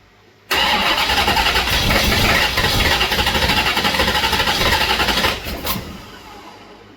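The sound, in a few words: engine with old Holley 670 carburetor starting up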